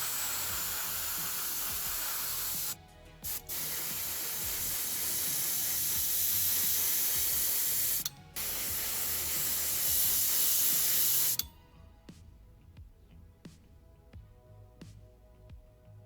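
An airbrush sprays black-grey paint onto the tracks of a model BT-5 tank in bursts of hiss with two brief gaps, then cuts off, leaving faint ticks and small handling clicks in a quiet room.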